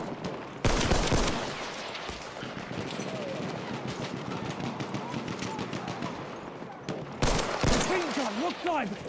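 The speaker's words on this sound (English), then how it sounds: "Machine gun" Video game machine gun fire rattles in rapid, steady bursts, loud and close, with a player talking over it throughout.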